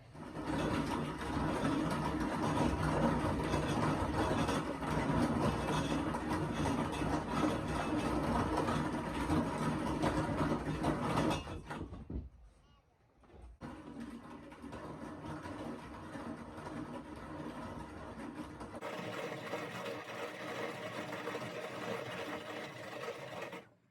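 A grain mill grinds dent corn with a steady, loud, droning motor-and-grinding whir that cuts out briefly partway through and then resumes, running on alone without talk.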